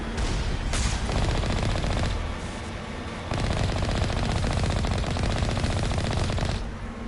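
Rapid turret and sniper gunfire in the Mass Effect 1 video game, dense sustained bursts of automatic shots with brief pauses, loud and continuous without talk.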